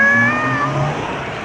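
A human voice imitates a cat's meow, one short clear wavering call, close and loud, as part of a children's animal sounds game.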